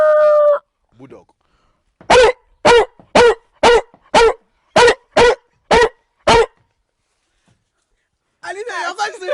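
A man vocally imitates a bulldog with ten short, sharp, evenly spaced barking grunts. Brief voice sounds come before and after the barks.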